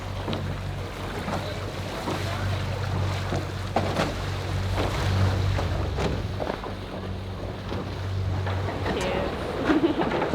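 A sailboat running at about 10 knots in 11.5 knots of wind at sea, with a steady rush of water and waves along the hull under strong wind buffeting the microphone, continuous and close throughout.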